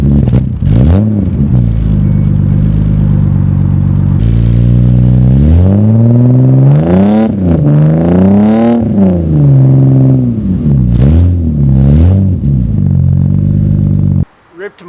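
Engine of a widebody Mk3 Toyota Supra with new headers revving hard in a series of loud, close swells, climbing and falling in pitch repeatedly before cutting off abruptly.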